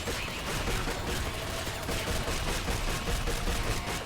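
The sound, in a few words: automated turret guns firing in video game Escape From Butcher Bay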